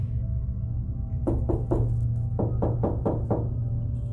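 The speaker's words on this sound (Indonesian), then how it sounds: "Suara ketukan pintu kamar mandi." Knuckles rap on a bathroom door in a campus dormitory, sounding as two close, sharp bursts: three quick knocks, a brief pause, then about five more, alone over a low steady hum.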